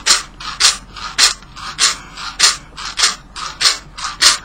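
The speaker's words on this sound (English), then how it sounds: "I'm going to do a little rattling" A handheld rattle shaken in a steady rhythm at the start of a full moon mandala reading, giving about a dozen crisp, close, loud bursts of dry rattling at an even pace with no talking.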